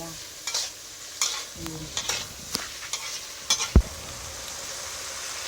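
Cucumber with egg is stir-fried in a pan to a steady sizzle, while a utensil scrapes and clacks against the pan in irregular strokes close by; no one talks.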